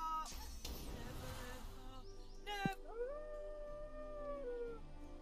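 A dog howls in the fantasy role-playing video game Divinity: Original Sin 2, a long rising and falling wail that carries over a busy game soundscape with a brief burst of other effects partway through.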